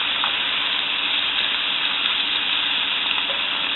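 Shrimp cooking in a skillet over medium heat, giving a steady, even sizzle and hiss that stays close and constant throughout, with no voices.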